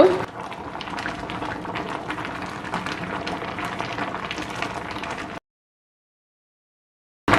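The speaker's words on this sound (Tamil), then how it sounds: "திருப்பி இதை மூடி போட்டு அஞ்சு நிமிஷம் கொதிக்க விடுவோம்" Tamarind porridge (puli kanchi) bubbles in a covered pot on the stove, a steady close simmering hiss with soft popping that runs for several seconds before stopping abruptly, then briefly returns.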